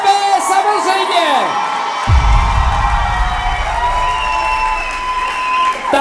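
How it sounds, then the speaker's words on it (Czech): A school ball crowd bursts into loud applause, cheering and whoops for class 4.B after their Brazilian-themed opening dance, with an announcer speaking over the start before the clapping swells. "velký potlesk a 4.B samozřejmě"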